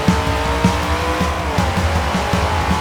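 Racing cars roar continuously in Forza Horizon 4, with a Mustang among them. The engine drone is loud and dense, with repeated rhythmic thumps and tire noise and no talk.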